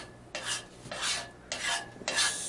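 A wooden spatula spreads food across a pan in four close, rasping strokes, each a short scrape with brief pauses between, and no one speaks.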